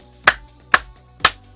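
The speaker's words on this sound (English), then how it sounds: "I'm going to clap." Three loud, crisp hand claps from a single commentator during a virtual cycling race broadcast, evenly spaced about half a second apart and close to the microphone, with nothing else audible.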